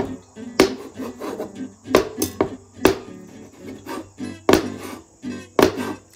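A heavy, sharp-edged metal tool chops a ribeye steak on a fire disc outdoors, landing as a series of irregular, sharp knocking strikes, close and fairly loud, with scraping between blows.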